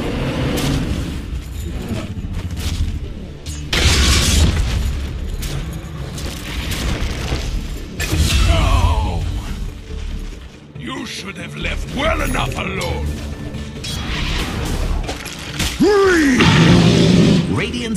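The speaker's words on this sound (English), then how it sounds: "Dire's middle tower is under attack." In Dota 2, attacks on a middle tower bring repeated heavy booms and impacts in bursts every few seconds, mixed with spell effects and mechanical clanks, while an announcer-like voice speaks over the game sounds.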